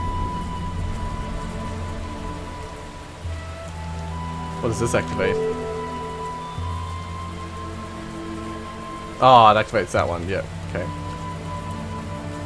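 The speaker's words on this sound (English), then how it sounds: "Rain in the desert." Steady rain falling across a desert in the video game Xing: The Land Beyond, a constant soft hiss running throughout under someone talking, with brief game sound effects breaking in.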